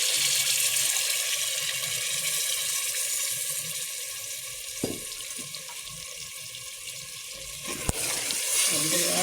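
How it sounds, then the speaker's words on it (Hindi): A tap pours water into a pot of meat for chicken biryani, a steady even rush filling the pot, with a couple of brief knocks partway through. "इसमें थोड़ा सा पानी ऐड करेंगे ताकि गोश्त गल जाए"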